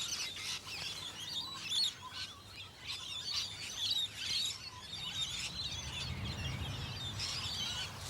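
Wild parrots calling in an Australian suburban setting, a steady chorus of bright, scratchy chirps and squawks repeating in bursts over several seconds at moderate distance, with a low background rumble.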